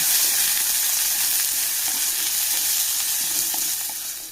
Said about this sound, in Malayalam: ഇതൊക്കെ ചേർത്ത് നല്ലപോലെ നമുക്ക് വഴറ്റി കൊടുക്കാം